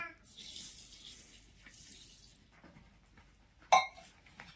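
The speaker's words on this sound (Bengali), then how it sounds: "আর দিয়ে দিলাম একটু দুধ।" Milk is poured into a malpua batter of maida and suji, heard as a faint, soft liquid hiss in short stretches, followed by a single sharp clink of a utensil against the bowl.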